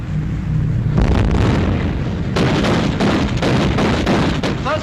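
Warship guns open fire in a 1942 war film, with loud, close blasts and bursts that come in quick succession over a rumbling battle din.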